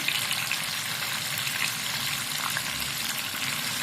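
Salted cauliflower sizzles steadily as it is stirred and fried in a pan, a constant close hiss with soft scraping under it and no voices.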